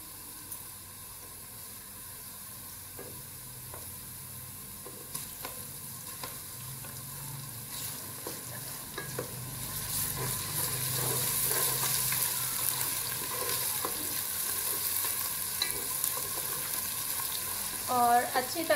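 Garlic ginger paste hits a pan of lightly browned onions and sizzles softly, the frying growing a little louder and steadier while being stirred, with a faint clink or two near the end.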